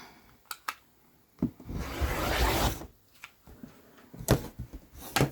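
Fabric being cut in half into fat quarters, a few sharp close taps and then a sustained rough slicing scrape lasting over a second, followed by more scattered knocks and handling sounds.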